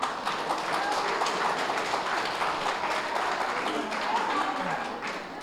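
An audience at a spiritual talk on the Lalitha Sahasra in Surya Pet claps for film songs, a dense, sustained burst of applause that fills the room and tapers slightly at the end.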